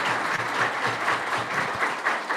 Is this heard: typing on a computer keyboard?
no